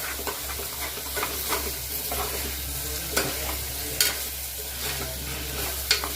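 Chopped tomatoes sizzle in a hot pan of pepper chicken base, with a steady fry hiss broken by scraping clinks of a spoon stirring every second or so.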